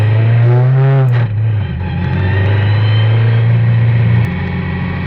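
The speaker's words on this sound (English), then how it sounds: "Thankfully, it restarted immediately and I was back on my way." A Tiga SC81 S2000 race car engine running loud and close after a restart at the Silverstone Classic, a strong low steady drone with a brief rising rev at the start.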